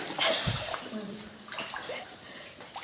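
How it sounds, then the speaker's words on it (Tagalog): Water flowing inside Capisaan Cave in Kasibu, with a continuous close splashing and sloshing wash in an enclosed space while voices talk over it. "Tapos may tubig."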